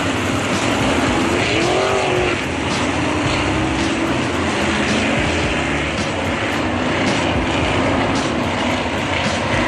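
Sprint cars roar around the dirt oval at Ohsweken Speedway during an A-main restart, a dense, loud, continuous wall of engine noise with no voices.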